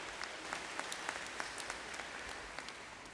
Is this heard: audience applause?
yes